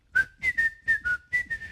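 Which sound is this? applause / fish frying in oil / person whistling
person whistling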